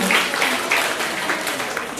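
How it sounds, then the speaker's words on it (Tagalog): A church congregation at a thanksgiving celebration claps steadily for a couple of seconds, a dense, even patter of applause with voices mixed in. "Palakpak para sa sarili ninyo."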